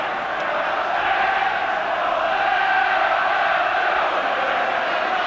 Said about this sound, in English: The crowd, the St Helens section, roaring out when the Saints go marching in